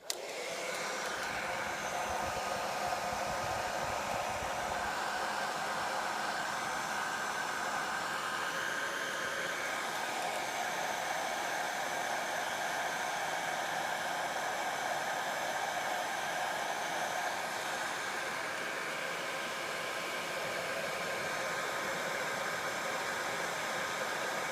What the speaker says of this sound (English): I'm just going to hit this for 10 seconds with a heat gun as well